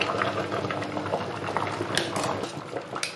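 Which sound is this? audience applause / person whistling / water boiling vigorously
water boiling vigorously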